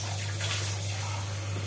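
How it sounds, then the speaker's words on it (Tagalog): Water pours into a cooking pot for tuna with chilli, a soft steady rushing stream over a low constant hum, faint and continuous. "Lagyan ng tubig hanggang maluto siya."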